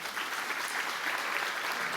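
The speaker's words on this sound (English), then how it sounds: "Let's give them a round of applause." A short, even burst of audience clapping at an evening gala, welcoming the board of directors; fairly faint and continuous throughout.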